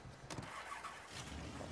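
A car arriving in the game Mafia, its engine rumbling steadily up close after a brief thump, a short continuous motor sound with no talk.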